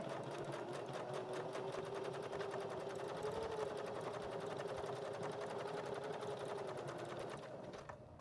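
Sewing machine stitching across fabric scraps for collage fabric, a continuous close whir running steadily throughout and easing off slightly at the end.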